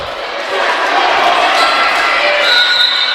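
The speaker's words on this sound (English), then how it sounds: "Crowd really getting loud." A volleyball crowd at a women's match between Eureka and Dominican roars louder and louder with cheering after a tied point at 25, a dense sustained wall of voices.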